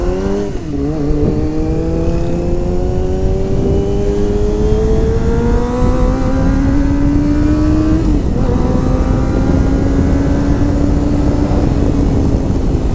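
A Kawasaki ZX25R motorcycle engine drones steadily while riding, its pitch rising slowly through the gears over heavy wind rush, loud and continuous.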